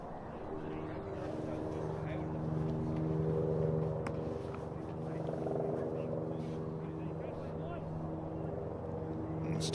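Helicopter circling overhead near a Dublin stadium during a cricket match, a steady humming drone with layered tones that rises and falls gently over several seconds, with faint crowd noise far off.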